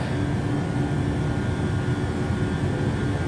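A PMDG Boeing 737-800 climbing after takeoff in Microsoft Flight Simulator gives a steady, loud, broadband jet engine roar with a faint hum, continuous and unbroken for a few seconds, with nobody talking.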